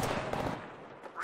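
A brief burst of gunfire in the video game Apex Legends, with a few quick, loud shots close together and a final crack at the end.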